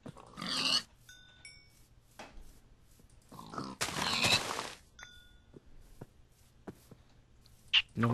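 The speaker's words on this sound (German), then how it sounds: "Noch mal richtig viele Schweine hier." Minecraft pigs grunting and oinking in a few separate bursts, one long loud call near the middle, with chime-like game tones and clicks between them, fairly close.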